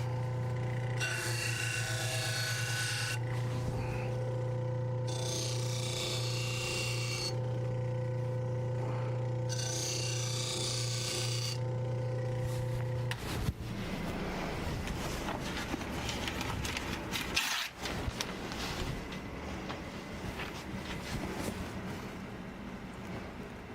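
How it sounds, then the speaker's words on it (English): Rasping, rubbing strokes as a knife-maker removes the burr from a knife blade in the workshop, loud and close, first in three even bursts and then as a steadier scraping run with no talk. "so I'm just removing that burr"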